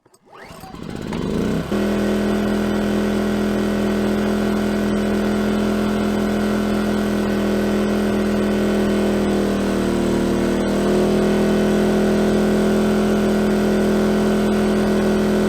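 An A-iPower SUA2000i inverter generator runs at full load, a steady loud engine drone with strong low hum that starts up and settles into a constant tone for the whole stretch, shifting slightly in pitch near the end.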